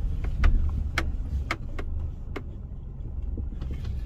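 A car rolls into a free parking lot at a Daiso store in Korea in winter, its low engine rumble steady and close, with a few brief clicks and thumps but no talking.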